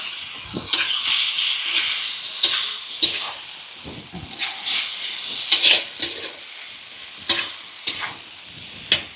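Potato pieces sauté in a spice mix, a steady hiss and sizzle punctuated by repeated sharp scrapes and clacks of a spatula stirring close in the pan.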